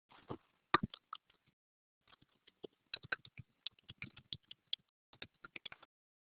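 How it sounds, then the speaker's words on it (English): A few people type on computer keyboards in a quiet room, giving sparse, irregular clusters of soft, close key clicks separated by short pauses. "A couple people are typing."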